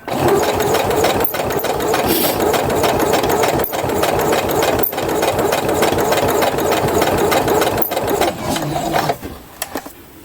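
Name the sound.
sewing machine stitching through layers of fabric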